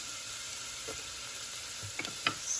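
Garlic frying in a hot pan for adobong sitaw (stir-fried long beans with onion), a faint steady sizzle with a few small crackles and scrapes near the end, no talking.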